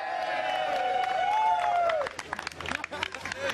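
A crowd of onlookers cheers, whistles and claps in reaction to police appearing, a sliding whistle-like call over broad hubbub that then breaks into scattered clapping and noise.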